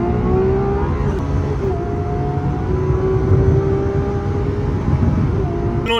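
Lamborghini SVJ V12 engine at a steady loud drone, heard from inside or close by during a launch-control run on a Gumball 3000 road rally, with harmonic tones sliding slowly and no clear rev bursts.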